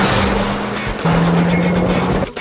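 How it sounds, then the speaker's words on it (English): A Mitsubishi Lancer Evolution race car with a 2-liter inline four-cylinder engine drones loudly from up close, holding a steady pitch that steps up after a shift before cutting off near the end. "It's real easy to forget that you're driving a 2-liter inline 4-cylinder engine here."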